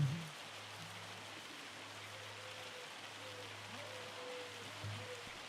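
Steady rain falls in the video game Farming Simulator 25, a continuous even patter heard near a tool shed, with a faint low hum beneath it and no voices.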